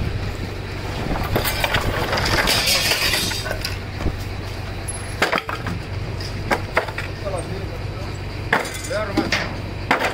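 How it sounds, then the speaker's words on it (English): A 20-pound sledgehammer repeatedly strikes debris during a house cleanout, and each heavy, irregularly spaced impact brings cracking and splintering over a constant mechanical background hum. "20 pound sledgehammer, works great."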